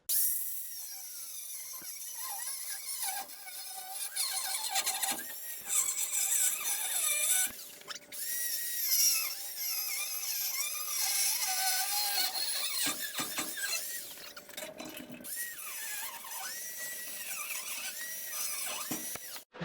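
A power tool cuts through an old car bumper to contour it around the grill, giving a steady high-pitched whine and squeal with brief pauses and shifts in pitch, close and loud throughout, with no talking.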